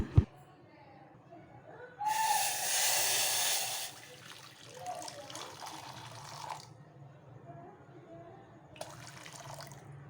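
Hot water poured into a naphthalene-ball cleaning mixture in a home kitchen, a loud steady splashing pour lasting about two seconds, followed by softer trickling and a second brief pour near the end, with light background noise.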